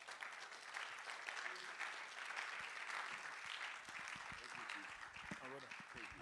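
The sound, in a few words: audience applause at a conference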